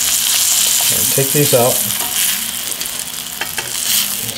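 Pan-seared scallops sizzle in a hot pan in a continuous bright hiss while a nearby voice talks over the frying.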